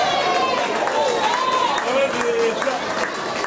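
An audience gives steady applause and cheers at an event, a dense wash of clapping close by. A voice carries over the crowd.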